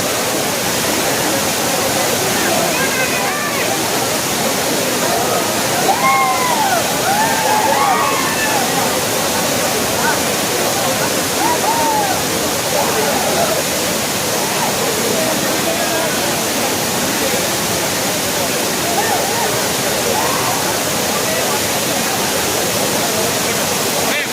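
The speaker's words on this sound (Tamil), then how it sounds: "ரொம்பவே ஜாலியாக எல்லோரும் என்ஜாய் பண்ணி குளிக்கிறாங்க ஏன்னா தண்ணி நல்லா விழுது" The seasonal Kutralam waterfall pours down in a loud, steady roar as people bathe beneath it. Faint voices and shouts come through under the dense rushing water.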